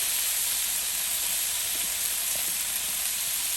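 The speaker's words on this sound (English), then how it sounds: "You can hear that sizzling." Loud, steady sizzling of beef frying in a hot pan, a constant crackling hiss with no voices.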